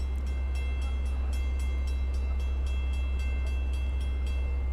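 Long Island Rail Road crossing at North Phillips Avenue near Speonk as a westbound train approaches, a steady rhythmic ringing of crossing bells over a constant low rumble, heard from nearby with no voices.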